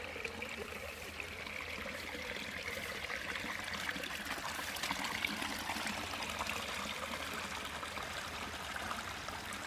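Steady water trickling and streaming near a beaver pond on a farm in winter, a continuous gentle babble without pause, moderately close and fairly quiet, with no voices.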